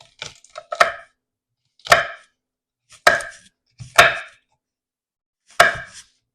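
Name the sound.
chopping peppers with a knife for chili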